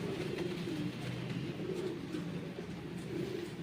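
Sialkoti rooftop pigeons coo in soft, repeated rolling phrases, fairly faint and close, over a steady low background hum with no talking.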